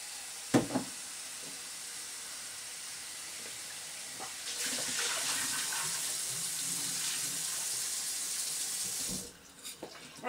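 Water runs from a tap in a steady stream, rinsing sprouting seeds, starting after a few small clinks and stopping near the end with more handling sounds.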